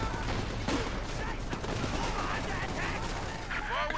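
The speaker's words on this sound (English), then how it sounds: "The squad taking a lot of fire." Sustained gunfire pours onto a squad in a World War II strategy game, a dense crackle of rifle and machine-gun shots amid battle noise, with faint voice-like sounds scattered through it.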